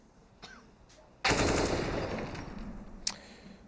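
AK rifle gunfire in the video game CS:GO, a sudden loud burst of automatic fire that trails off over a couple of seconds, followed by a brief sharp crack, with no voices.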